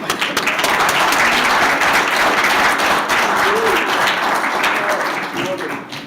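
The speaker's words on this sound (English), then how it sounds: "that may be the only time you clap for me" An audience at a women veterans' event applauds a guest speaker from the Air Force JROTC, a loud, sustained burst of many hands clapping that holds steady and begins to thin at the end.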